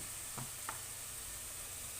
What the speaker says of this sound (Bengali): তেলে ভাজছি